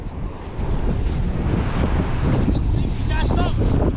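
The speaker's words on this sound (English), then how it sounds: "Waves seem to be getting bigger." Ocean surf rolls and washes in a continuous loud roar with heavy wind buffeting the microphone, and a voice speaks briefly over it.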